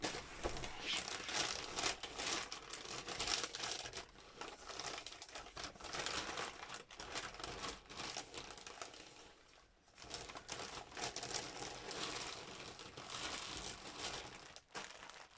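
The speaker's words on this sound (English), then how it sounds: "Sorry, very crinkly bag coming your way." A crinkly plastic bag handled and rummaged through at close range, a continuous crackling rustle with brief pauses, fairly quiet overall.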